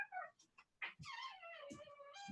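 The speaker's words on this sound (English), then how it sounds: "It sounds like our pug squeaking." A pug gives a few high, squeaky whimpers in short bursts, thin and moderately close, with quiet gaps between them and no talking over it.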